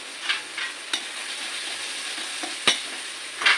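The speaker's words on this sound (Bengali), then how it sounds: "একটু তেলটা মেখে দিচ্ছি ভাজতে ভাজতে এবার আমি এই যে রসুনটা আছে অনেকটা রসুন দেবো" Plenty of garlic sizzles softly in hot oil in a pan, with a steady frying hiss broken by a few sharp scrapes and taps of a stirring spoon.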